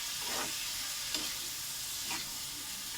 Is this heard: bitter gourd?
yes